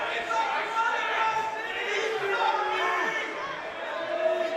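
A wrestling crowd at a Relentless Wrestling match keeps up a steady murmur of chatter and scattered shouts, with a commentator talking over it.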